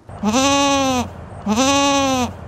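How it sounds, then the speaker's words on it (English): Goats bleating in a historic cemetery in Jersey City, New Jersey: two loud, close, wavering bleats, each about a second long, separated by a short pause with no talking. "You'll find goats."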